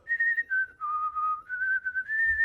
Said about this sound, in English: it's whistling the national anthem with his butt